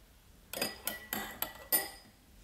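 A metal spoon clinks against a bowl as aloe vera gel is added, five sharp, light taps spaced a fraction of a second apart in a quiet room.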